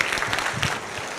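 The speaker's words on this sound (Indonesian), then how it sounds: "Tepuk tangan lagi dong buat Rosi." Audience applause fills a game developers gathering, a dense burst of clapping that holds steady for about a second before easing slightly.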